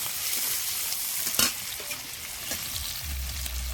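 Capsicum and onion petals fry lightly in a pan with a continuous close sizzle and hiss, broken by a few scrapes of stirring, with a low hum coming in near the end.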